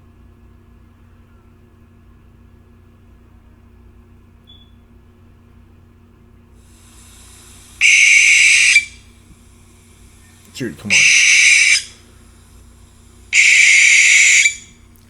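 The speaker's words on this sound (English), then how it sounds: "Let's find an owl sound." Three loud, evenly spaced owl hoots play back from a recording, each a bright sustained call lasting about a second, over a faint low hum, with a brief voice between the second and third.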